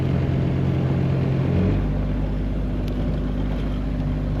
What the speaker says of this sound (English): bumped the throttle.